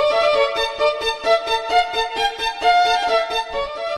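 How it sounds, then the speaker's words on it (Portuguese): Solo violin played in a bowed melody, sustained notes with rich bright harmonics moving in a steady rhythm, clear and close with no voices. "Esse é o som do violino."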